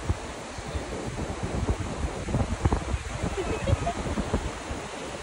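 Waves wash in at sunset at Varca Beach in South Goa, a continuous rushing surf mixed with wind buffeting the microphone, heard from within the water.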